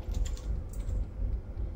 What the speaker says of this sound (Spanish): Tienes que teclear lo que pone ahí en tu teclado.